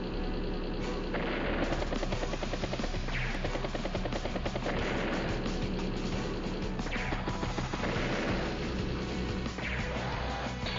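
Continuous dense unit-attack gunfire from the video game Advance Wars: Days of Ruin, rapid machine-gun bursts and heavy shots layered with crashes, loud and steady throughout without pauses.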